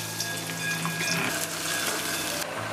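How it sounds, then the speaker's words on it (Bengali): Onions frying in oil in a home kitchen for biryani, a steady sizzle with a low background hum, heard alone at a moderate level. "পেঁয়াজটা একেবারে ভেজে নেবো এখন।"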